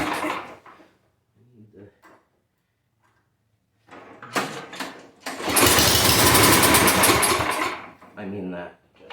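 A repaired curbside-find snow blower engine fires up almost immediately after a few quiet pulls, then roars loudly and steadily at close range for several seconds before cutting back, with brief talk at the start and end.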